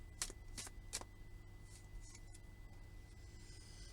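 Oracle cards are shuffled and drawn close up and quietly, with several crisp brushing flicks in the first second followed by softer rustling and card handling against faint room tone.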